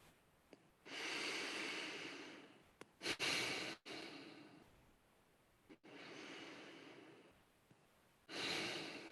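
Slow, deep breaths during a guided breathwork session: long drawn inhales and exhales alternate with quiet pauses, close and soft, with no speech.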